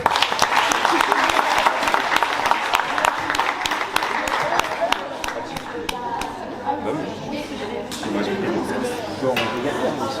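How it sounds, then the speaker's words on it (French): A crowd applauds players being introduced at a football club's season launch, with loud clapping at first that thins into scattered claps under chatter. "Vous pouvez les applaudir, s'il vous plaît."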